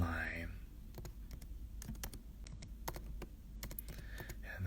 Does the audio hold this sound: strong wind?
no